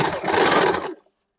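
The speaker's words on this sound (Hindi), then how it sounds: "अब नीचे वाले को भी हाफ इंच करके 2 बार फोल्ड करके सिलाई कर लेंगे" A sewing machine runs one loud, close burst of just under a second while stitching a hem folded twice on a suit made from an old saree, then stops abruptly into silence.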